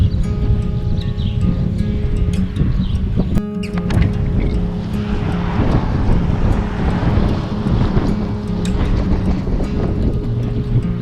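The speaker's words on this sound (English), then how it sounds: "It's been a bit windy." Strong wind blusters into the microphone outdoors along Route 66 in Texas, a dense, unbroken low roar with gusty swells and one sharp cut partway through.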